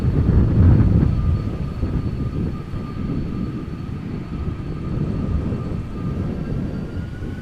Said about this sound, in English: Delta Airlines flight 163 going to Minneapolis, A330-300.